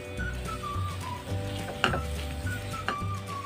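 Fried egg crumble being stirred into mashed potato in a hot pan, a soft continuous sizzle with a few sharp spatula scrapes and clinks against the pan.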